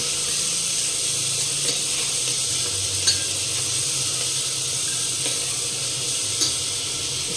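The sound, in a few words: onions frying in a pan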